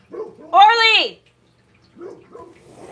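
A dog gives a single loud, drawn-out bark or yelp close by, with a person's voice speaking briefly before and after it.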